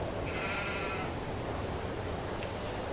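A single sheep bleat from the video game Farming Simulator 22 rings out briefly over a steady background hiss, then only the constant noise remains.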